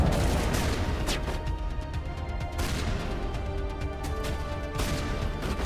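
A dense firefight in Mass Effect Legendary Edition: scattered gunshots crackle through a steady, noisy wash of combat at moderate level, with no clear pauses.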